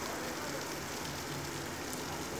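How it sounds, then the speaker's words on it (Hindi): Rain falling during a train ride through the Kasara ghat section, a steady, soft broadband hiss that runs unbroken throughout with no voices over it. "ये बारिश का मज़ा अलग है भाई"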